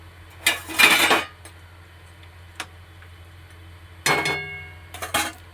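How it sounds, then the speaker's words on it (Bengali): Fried lentil dumplings go into a thin drumstick and vegetable curry in a pot, heard as two bright clattering bursts of utensil-on-metal clinks with a quiet stretch and a single tick between. "এইবার দিয়ে দেব বড়িটা, ভাজা বড়িটা দিয়ে দিলাম।"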